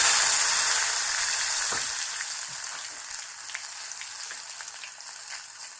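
Mustard seeds and dry chili sizzle in hot oil over a low flame, a loud, steady frying hiss that eases slightly after a couple of seconds, with scattered small pops and crackles throughout.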